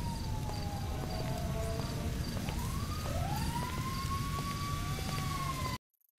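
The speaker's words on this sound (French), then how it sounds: "Des pompiers qui arrivent aussi parce que j'avais oublié de les désactiver." Fire truck sirens wail continuously in the GTA 5 video game, their rising and falling tones layered over a steady rumble of traffic or engine noise. The sound plays loud and unbroken until an abrupt cutoff near the end.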